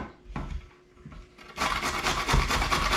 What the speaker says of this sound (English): Anyway, we're gonna grate it.